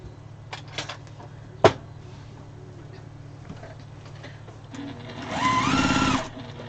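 A sewing machine runs in a steady whir while stitching fabric scraps together into yardage, starting after a few light clicks and knocks and building to a louder sustained burst near the end.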